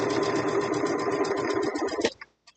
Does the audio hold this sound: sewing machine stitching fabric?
yes